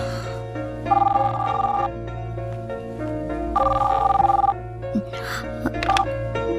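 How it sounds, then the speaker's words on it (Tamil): A telephone rings late at night in a Tamil movie scene, repeated electronic ring bursts in a steady on-off pattern, loud and close, with a brief gasp and a short vocal sound near the end. "இந்த நேரத்தில் உனக்கு யார் ஃபோன் பண்றாங்க ரீட்டா"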